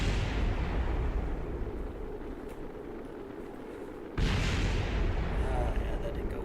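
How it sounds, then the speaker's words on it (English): A probe core in Kerbal Space Program overheating and blowing apart: a broad, dense roar of rushing noise that dips midway, then a loud burst kicks back in sharply and sustains to the end, with no talking over it. "my probe core got overheated and blew off"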